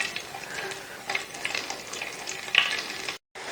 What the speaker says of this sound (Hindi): इसी में प्याज डाल दें, इसको थोड़ा सा हल्के से और फ्राई करते हैं